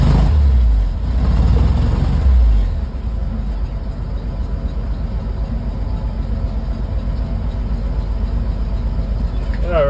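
A 1953 Dodge M37 truck with a flathead engine idling steadily, a loud continuous low rumble heard close up, with a slight heavier surge in the first few seconds.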